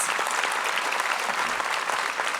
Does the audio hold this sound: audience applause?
yes